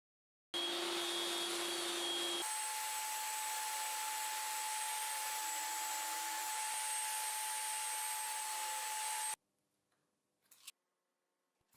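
A loud, steady band saw cutting wood whines continuously with a high tonal hum, its pitch shifting partway through, then cuts out leaving faint knocks and rustles.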